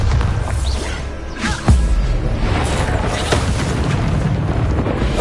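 A Bombarda blasting spell explodes in Hogwarts Legacy, one sharp booming burst with a crash midway through, set among other spell impacts and steady magical background noise.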